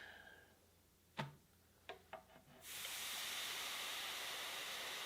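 Steam hisses into the wood fibers of a Lane mid-century modern end table being refinished, a faint broadband rush that starts after a few soft ticks and clicks and then holds steadily to the end.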